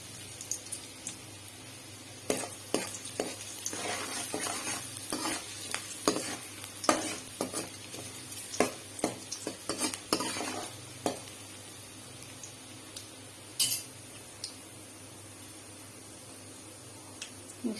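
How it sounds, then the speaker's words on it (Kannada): Chopped ginger and garlic fry in hot oil for Gobi Manchurian, a low steady sizzle broken by frequent scraping stirs and clinks of a spoon against the pan, close and without voices. "ಸ್ವಲ್ಪ ಕ್ರಂಚಿ ಆಗೋ ತನಕ ಫ್ರೈ ಮಾಡೋಣ."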